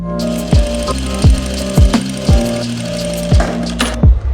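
A sewing machine stitches kurti fabric in short, loud mechanical bursts, about one every 0.7 seconds, with brief pauses between the runs of stitching.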